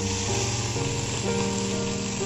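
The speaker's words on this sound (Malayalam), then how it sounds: "വെളിച്ചെണ്ണ ചൂടായിട്ട് വലിയ ഉള്ളി അരിഞ്ഞത് ചേർക്കുക" Chopped onions, crushed ginger and garlic sizzling in hot coconut oil for kappa biriyani, a loud, steady, close frying hiss with no talking.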